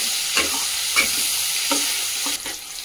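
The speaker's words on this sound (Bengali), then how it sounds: "এবার পেঁয়াজগুলোকে ভালো করে ভেজে নেব।" Chopped onions fry in leftover potato-frying oil for a village-style mutton curry, a steady hiss punctuated by a few evenly spaced spatula scrapes.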